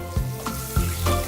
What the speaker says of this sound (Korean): 파전을 굽는 게 아니라 통째로 튀기는 거예요